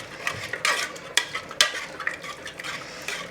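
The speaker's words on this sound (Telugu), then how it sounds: "పప్పు ఒకసారి అయితే వెనుపుకుందామండి, ఇలా గంటెతో అనుకొని ఇప్పుడు ఆ తాలింపులో వేసేసుకుందాం" Cooked dal is mashed with a ladle and tipped into hot tempering in a pan, giving a series of close scraping, clinking ladle strokes with soft wet stirring and faint sizzle between hits.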